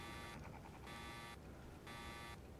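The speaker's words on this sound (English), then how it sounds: "Oh, and it beeps when it's opening." A gate in the video game ARK beeps as it opens, sounding a loud, harsh electronic buzz in three evenly spaced pulses of about half a second each, with no talk over it.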